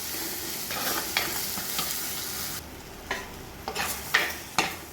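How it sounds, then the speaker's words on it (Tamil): A ground masala paste is sautéed for tuna fish curry, a soft steady sizzle with a few spoon scrapes at intervals, near and moderately quiet, and no one speaks. "நல்லா பச்சை வாடை போகணும் நல்லா வதக்கி விடுங்க"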